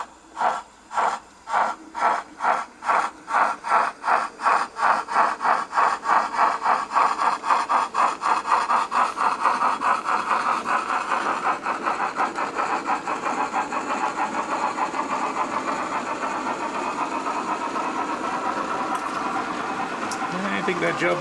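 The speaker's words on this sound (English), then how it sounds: "let's just run a locomotive through the point, see that it gets through there fine" A model locomotive runs through a point worked by a Tortoise point motor, giving a rhythmic pulsing beat that quickens and then blends into a steady, close running sound.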